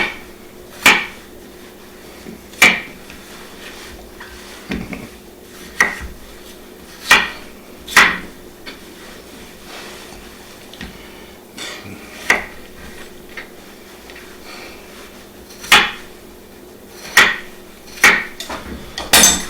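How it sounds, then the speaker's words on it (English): Beef ribs being chopped into pieces in a home kitchen: a series of sharp, loud knife or cleaver strikes landing on a board at irregular intervals, each a crisp crack separated by quiet pauses, with no talking. "I just want to cut them up enough so it doesn't take too long to boil"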